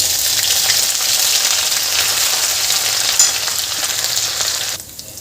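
Coarse chili and garlic paste hitting hot oil with cumin seeds, a loud, steady sizzle and crackle that cuts out near the end.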